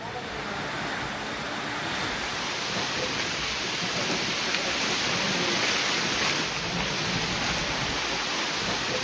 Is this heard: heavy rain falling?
yes